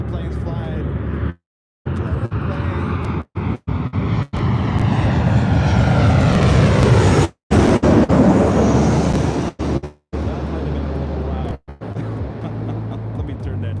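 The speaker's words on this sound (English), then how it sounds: "Extremely loud as the planes are flying directly over our head here today." Jet airplanes fly low overhead at LAX, heard from a parking garage as a loud, swelling roar that passes directly above with a falling pitch. Someone talks during the clip, and the sound cuts out in several brief gaps.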